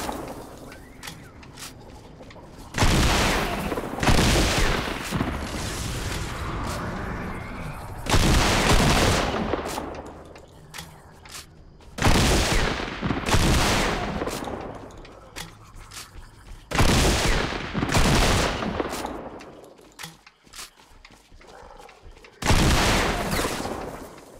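Loud bursts of gunfire from the video game Fortnite come in repeated volleys of a few seconds each, separated by quieter gaps, with about five clusters of rapid shots.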